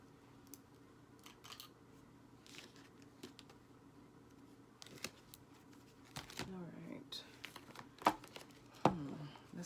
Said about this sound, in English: Let's get the shuffle in for my Scorpios